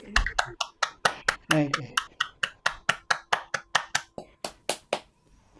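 An audience at a session on playing for Basse dance claps in a steady, even rhythm, close and crisp, with brief voices and laughter at the start before the clapping slows and stops.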